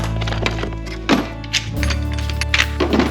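A nail gun loaded with wood nails drives them into timber, giving a few sharp thunks at uneven intervals over a steady mechanical hum close by.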